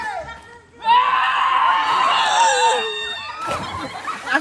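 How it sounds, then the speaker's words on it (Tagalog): Loud, sustained screaming from a person at a family birthday gathering rises abruptly and holds for a couple of seconds, followed by a burst of excited voices and laughter nearby. "Ang sigaw niya!"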